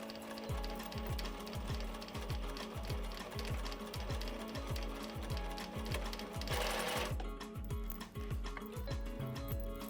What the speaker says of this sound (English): I'm just going to sew across the ribbon part